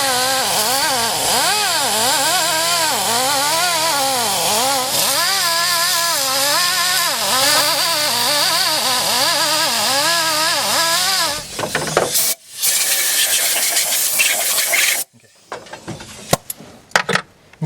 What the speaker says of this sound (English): clean these pistons up just a little bit